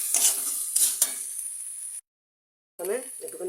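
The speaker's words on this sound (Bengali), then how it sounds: "দিয়ে মশলাটাকে ভালো করে কষিয়ে নেব।" Spice masala with salt sautéed and stirred in a pan, a soft sizzle with stirring scrapes and clinks, cut by a brief silent gap, with a voice speaking near the end.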